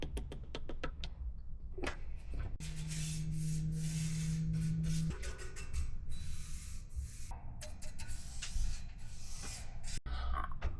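A brush or rag works paint conditioner primer onto a metal chair frame, giving a close, steady rubbing and scraping with a few sharp clicks and knocks, alone and fairly loud.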